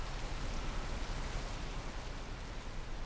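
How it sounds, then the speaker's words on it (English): Heavy rain in the bus simulator OMSI 2 pours down as a dense, steady hiss of noise, even and unbroken throughout with no voices. "hit the heavy rain"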